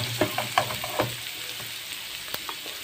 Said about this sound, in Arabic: نشوح الثوم الأول كده حبة، أول ما يدخل على لون نحط معاه الكزبرة